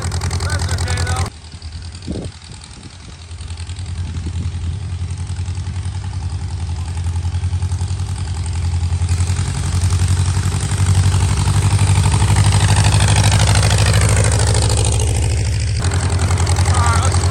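An antique farm tractor with Dodge-designed parts idles after a cold start, its engine a loud, steady low rumble with a rough, shaking chug that holds on throughout.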